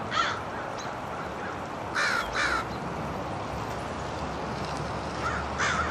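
Crows caw on a winter morning, a few harsh calls in pairs standing out against a constant hiss of wind, the birds at a moderate distance.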